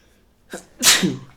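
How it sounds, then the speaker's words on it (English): A single sharp sneeze with a short breathy intake before it, loud and close, with no talking. "I'm going to sneeze."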